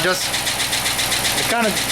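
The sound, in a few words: Chrysler 300 engine running with knocking from bank one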